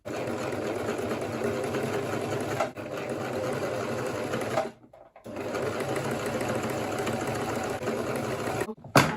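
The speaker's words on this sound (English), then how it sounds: "Just sew straight along the line." Close and steady, a sewing machine runs a straight seam along the bias line of fabric for a simple kaftan, its rapid mechanical whir broken by two brief pauses.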